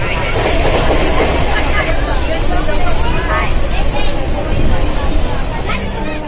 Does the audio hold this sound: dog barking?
no